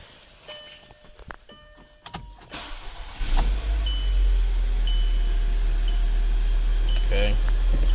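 Audi/VW 2.0T engine cranked and started after clicks and beeps, settling into a loud, steady close idle that runs to the end.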